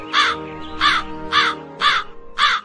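A crow caws five times in an animated Hindi moral story, loud evenly spaced harsh calls about half a second apart over a faint background hum.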